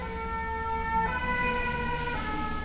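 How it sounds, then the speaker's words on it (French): A fire engine siren wails steadily and loudly throughout, its rising and falling tones continuous over road noise, with no one speaking. "C'est les pompiers."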